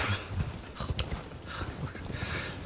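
Horse galloping in Elden Ring, quick rhythmic hoofbeats clopping close over ground with scattered clatter, no voices present.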